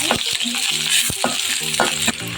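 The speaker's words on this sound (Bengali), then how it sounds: "পেঁয়াজ কুচি হালকা একটু কষিয়ে নিচ্ছি" Chopped onion sautés in a pan with a steady loud sizzle, while a spatula stirs it and scrapes and clinks against the pan several times at an uneven rhythm.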